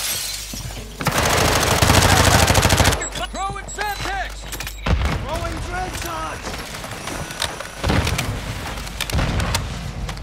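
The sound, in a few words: submachine gun gunfire in Call of Duty Warzone video game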